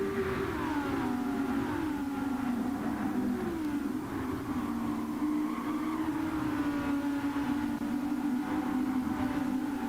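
Racing car engines in the GTC racing video game drone steadily, their pitch sliding up and down as they accelerate and brake, sustained and moderately loud with no voices.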